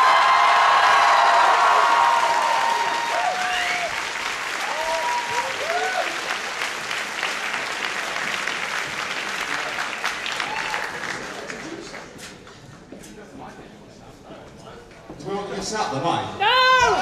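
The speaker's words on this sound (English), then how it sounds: "we deserve much more of an applause than that" An audience at the opening of an anime convention applauds loudly for several seconds, then the clapping thins out and fades, with a few scattered voices and laughs as it dies away.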